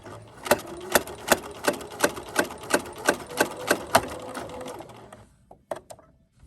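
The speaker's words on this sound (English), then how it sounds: "now we're going to sew all the way to the end at a 1/4 inch seam allowance" Sewing machine stitching a quarter-inch seam on fabric for a winter headband, a steady run of evenly spaced mechanical thumps that stops and is followed by a few softer clicks, close and alone.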